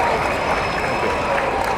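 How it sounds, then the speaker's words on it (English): A crowd at a Peace Day rally in Chicago applauds a speaker coming to the stage, a steady, fairly loud wash of clapping with faint cheering mixed in. "Let's make some round of applause"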